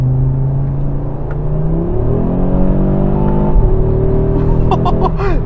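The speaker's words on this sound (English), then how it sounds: "hear that exhaust note." A 2023 Audi RS3's five-cylinder exhaust note under acceleration, a loud climbing engine tone that rises, drops at gear changes and climbs again, with some chirps near the end.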